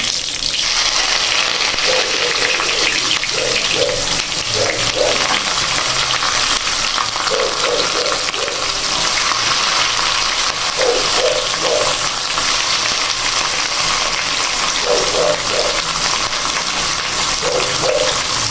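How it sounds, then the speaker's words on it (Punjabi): Ginger and onion fry in a pan of hot oil with curry leaves, cumin and fenugreek seeds for kadhi pakora, making a loud, continuous sizzle broken by periodic stirring scrapes. "ਤੇ ਹੁਣ ਆਪਾਂ ਅਦਰਕ ਨੂੰ ਤੇ ਪਿਆਜ਼ ਨੂੰ ਚੰਗੀ ਤਰ੍ਹਾਂ ਭੁੰਨ ਲਈਏ"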